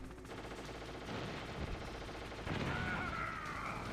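Gunfire from a boss fight in the video game Metal Gear Solid, rapid bursts of shots rattling in quick succession, growing louder and denser toward the end, with no voices over it.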